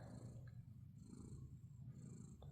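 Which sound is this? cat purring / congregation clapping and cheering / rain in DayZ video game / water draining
cat purring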